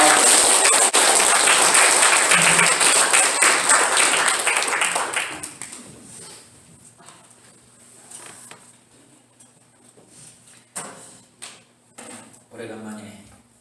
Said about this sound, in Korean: 나올 때 우리 박수로 하나님께 영광 돌리겠습니다.